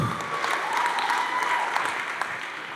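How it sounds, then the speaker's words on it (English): Sustained crowd applause at a charity benefit event, many hands clapping in a dense continuous wash, with a faint voice briefly audible near the start. "let's give all 32 people a huge round of applause"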